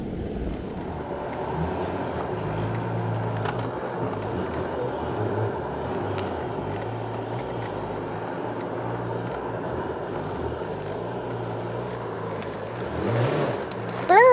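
An idling car at 216,604 miles with no gas creeps backward into a mechanic's stall, its steady low engine rumble continuous and close, rising slightly near the end.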